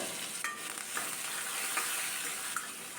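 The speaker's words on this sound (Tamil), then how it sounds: "வெந்தயம் சேர்க்கலாம் வெந்தயம் இந்த குழம்புக்கு நல்ல வாசனை தருங்க இதையும் சேர்த்து நல்லா கலந்து விடுங்க இது பொரியட்டும்" Fenugreek seeds and curry leaves fry in hot oil for a village-style tamarind kuzhambu, giving a close, continuous hissing sizzle with a few brief crackles as they are stirred.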